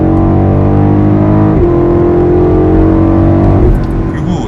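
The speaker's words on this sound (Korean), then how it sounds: "속도가 붙어 있는 상태에서 급가속을 이렇게 딱 했을 때" A BMW X7 M50i V8 SUV accelerates hard from speed, its engine note climbing steadily in pitch, dropping briefly at a gear change, then rising again before easing off; loud and close, from inside the cabin.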